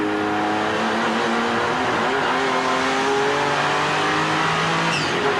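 GT2 race cars, including a 500-horsepower Callaway Corvette, race at Donington in 1995, with loud continuous engine roar rising and shifting in pitch as the cars accelerate together.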